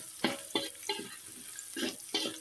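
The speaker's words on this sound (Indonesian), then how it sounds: "Aduk kembali." Stirring vegetable soup of moringa leaves and chayote in a pot, with five or six evenly spaced scraping, swishing strokes, close by and moderately loud, with no talk.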